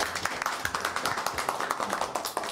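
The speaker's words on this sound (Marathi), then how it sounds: "जोरदार टाळ्या सगळ्या ऑडियन्ससाठी" Brief applause from a studio audience on a Marathi television show: a small crowd claps in quick, uneven beats, moderately loud and close, for a couple of seconds.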